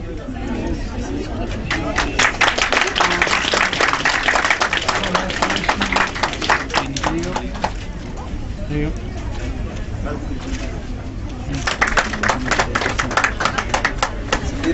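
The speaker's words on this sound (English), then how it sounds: "Big round of applause." Applause from an audience at a graduation ceremony in London for Somali students comes in bursts of dense clapping over steady crowd chatter and hubbub, with voices talking throughout.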